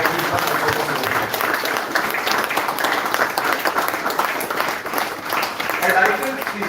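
An audience claps for a group of qualified women students at a college event, a steady ongoing applause of many hands while an announcer's voice carries over it.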